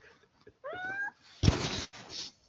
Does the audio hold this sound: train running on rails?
no